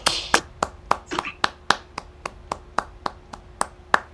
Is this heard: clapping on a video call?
yes